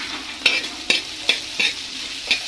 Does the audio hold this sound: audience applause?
no